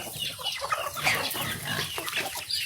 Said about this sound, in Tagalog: Hulihin natin yung malaking manok dito.